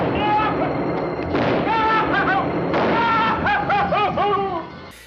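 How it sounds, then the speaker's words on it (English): Explosions from the Doctor Who serial The Invasion, with the second Doctor dodging three blasts: heavy booms and rumbling bursts mixed with voices and laughter, loud and continuous before cutting off near the end. "the Doctor dodges 3 explosions"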